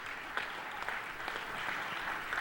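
A city council meeting audience gives a round of applause for Tom LaBonge, a soft, distant wash of many hands clapping steadily with a few sharper claps poking through.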